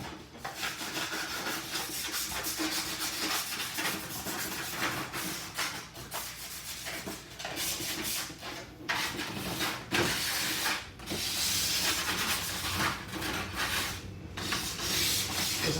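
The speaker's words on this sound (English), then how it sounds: "we are going to just do a light sand of the underside here" Sandpaper of 80 grit lightly scuffing the underside of an Infiniti G35 dashboard, a steady, close, continuous rasping rub with brief pauses and strokes throughout, no talking.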